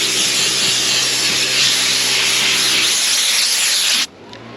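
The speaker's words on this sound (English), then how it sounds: "Take your air nozzle, go back over your project and blow it all off before you start shooting." Compressed air hisses steadily from an air nozzle as dust is blown off a 1995 NA Miata before priming, loud and continuous, then cutting off abruptly near the end.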